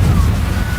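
An Incendio fire spell in Hogwarts Legacy, a loud, continuous roaring whoosh of flame with a deep rumbling body, heard close and alone.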